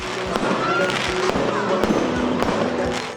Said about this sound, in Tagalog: pinaningning ng fireworks display na ito ang maulap na langit ngayong gabi